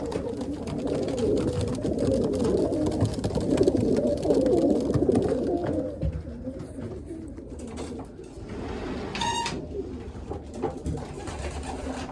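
Many pigeons coo together in a loft in a low, continuous murmur, close and steady, with occasional wing flutters.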